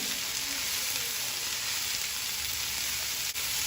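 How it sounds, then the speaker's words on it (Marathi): Salted okra sautés in a pan over a full flame with a steady, dense sizzle that fills the whole stretch. It is close and loud, with only a tiny dip near the end and no speech. "व्यवस्थित परतून घ्यायचं आहे। मीठ घातल्यानंतर आपण गॅस इथे फुल फ्लेमवर घेतलेला आहे"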